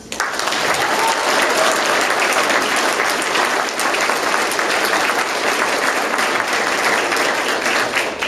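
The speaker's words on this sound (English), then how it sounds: "would you give them a round of applause?" Audience at a judicial officer awards ceremony gives a loud, sustained round of applause for the Bar Association board, dense clapping filling the room steadily throughout.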